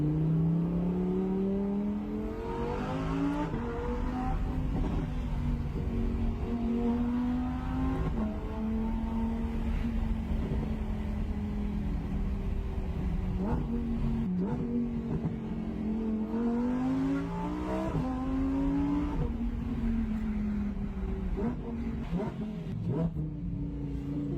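Supercar driven with the window open on a road in Brittany, its engine droning and rising and falling through gear changes as it accelerates, a continuous loud run with no speech.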